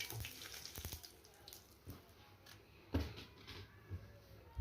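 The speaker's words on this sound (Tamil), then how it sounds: "அதுலேயே ஒரு தக்காளியை நல்லா லைட்டாக அந்த தோல் உரிகிற அளவுக்கு பொரித்து எடுத்துக்கணும்" A tomato frying in hot oil gives off a faint, steady sizzle, broken by a few soft clicks and pan knocks.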